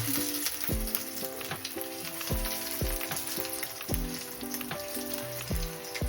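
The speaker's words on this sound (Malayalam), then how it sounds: "നമ്മുടെ കട്ട്ലേറ്റ് നമ്മൾ ഷാലോ ഫ്രൈ ചെയ്യാൻ പോവാണ്" Chicken cutlets shallow fry in oil with a continuous, close sizzle and crackle that holds steady throughout.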